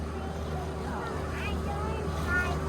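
A small boat's engine runs with a steady low drone on an estuary, mixed with wind buffeting and water noise while people talk over it.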